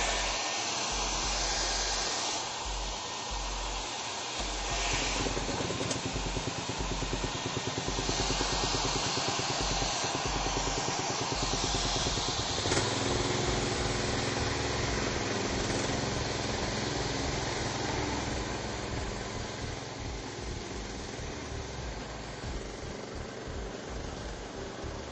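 A gas-powered Edco concrete grinder runs steadily close by, with a constant droning engine roar and a grinding hum that hold at an even level throughout.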